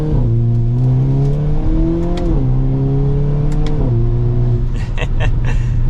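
A 2023 Hyundai Kona N's engine revs up and pulls away, pitch climbing through quick gear shifts, loud and close from inside the cabin.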